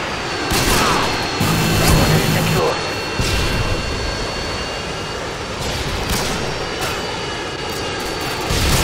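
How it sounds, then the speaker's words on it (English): A friendly Harrier jet in Modern Warfare 2 roars in loudly over a scrapyard battlefield, its engine noise filling the scene with bursts of gunfire and a voice speaking over it. "Friendly Harrier's inbound."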